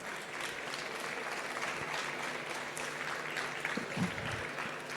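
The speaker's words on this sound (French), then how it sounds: "Félicitations sous vos applaudissements." Audience applause at the Natexpo 2024 trophy award ceremony, a steady dense clapping from a crowd, moderately loud and continuous, with a faint voice briefly underneath.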